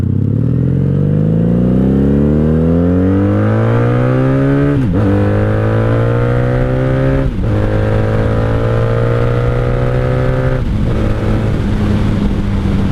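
A 1997 Honda Magna 750 V-four cruiser (VF750C) revs hard and close, its engine climbing in pitch and dropping back several times through gear changes, loud and steady with no talk.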